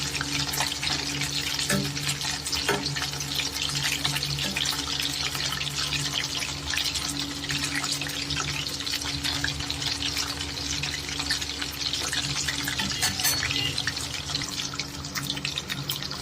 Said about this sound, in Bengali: পকোড়াগুলো লাল লাল করে ভাজা হয়ে গেছে